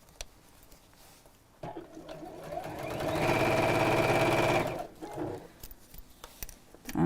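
A sewing machine runs in one steady burst of top stitching down the side of a small fabric box bag, rising from quiet handling sounds and stopping after about a second and a half, then fabric rustles.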